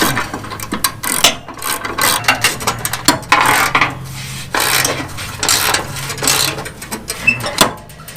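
Hand ratchet tightening bolts on a Murray riding mower mandrel, close, loud bursts of rapid clicking in repeated strokes with brief pauses and some metallic handling between them.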